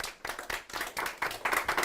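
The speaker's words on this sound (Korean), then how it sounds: "이럴 때도 박수 치셔도 돼요." Audience at a book forum talk show claps in a short burst, a dense patter of hands rising and falling in quick waves for about two seconds, no one speaking.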